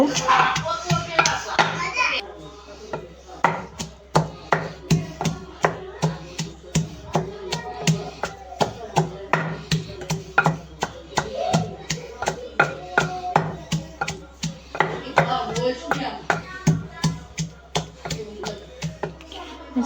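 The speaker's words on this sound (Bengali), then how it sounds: "এই হামারের রসুনগুলো থেতলে নিব" Garlic cloves are pounded with a hammer in a home kitchen, producing a long run of sharp, steady thuds close by while a voice talks at times underneath.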